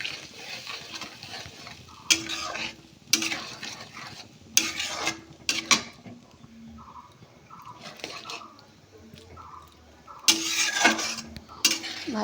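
A spoon stirs and mixes prawn curry in a pan in short bursts of scraping and sloshing, with quieter gaps and a faint sizzle in between, close and clear.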